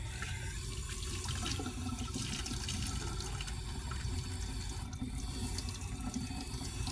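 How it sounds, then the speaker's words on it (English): Cold tap water runs over a wax dental tooth to chill it, a continuous close splashing stream from a faucet, steady and unbroken throughout. "I'm going to run a little bit of cold water on top of that so I can chill it rather quickly."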